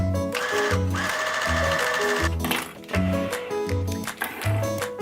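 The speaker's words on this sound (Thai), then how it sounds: "เดี๋ยวเราจะเย็บตรงนี้ ที่ตะเข็บ1เซนติเมตร" A domestic sewing machine stitches a 1 cm seam on a child's cap, running in rapid mechanical bursts with short pauses between, close and loud with no talk.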